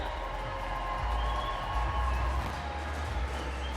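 A crowd at a women's BMX contest in Tallinn cheers in a steady, broad roar that holds for several seconds at moderate distance.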